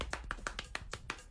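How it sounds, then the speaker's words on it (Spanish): Hands slap against parts of the body such as the shoulders, elbows, palms and thighs in a quick, even run of about six crisp close-up pats with no talk. "Palmas percutando parte de nuestro cuerpo."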